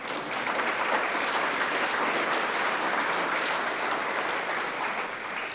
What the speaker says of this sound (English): Applaud here.